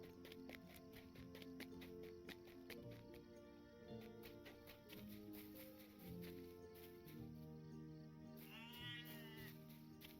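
A single brief, wavering sheep bleat in Lord of the Rings Online rises near the end over steady, bouncy electronic game music.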